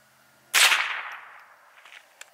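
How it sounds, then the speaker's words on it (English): A single close crack of a .22LR Winchester Super Speed round fired from a Ruger 10/22 rifle about seven yards from a paper target, a sharp report decaying quickly with faint small noises after. "we're going to be firing from only about 7 yards away using my Ruger 10/22"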